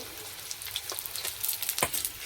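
Cauliflower florets coated in besan batter deep fry in oil, giving a low steady sizzle broken by quick crackling bursts and spatters, quiet and close-up.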